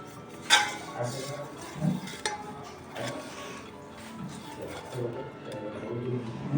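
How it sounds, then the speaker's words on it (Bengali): Chicken biryani being mixed with ghee in a pot, with irregular close clinks and scrapes of a spoon against the metal and soft stirring, some brief knocks. "ঘিটা কিন্তু আমাকে আরও 1 চামচ দিয়ে ভালো করে এটাকে মাখিয়ে নিতে হবে।"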